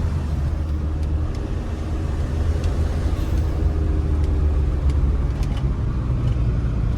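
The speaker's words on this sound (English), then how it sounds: "the truck, I mean, we're cruising down the road pretty decently" Volkswagen Rabbit pickup truck driving steadily down the road, with a constant low engine and road rumble throughout and occasional faint clicks and rattles, no talking.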